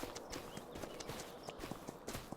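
Horses walking in the Farming Simulator 25 video game, a quiet, steady clip-clop of hooves in irregular overlapping steps, fairly close, with no talking over them.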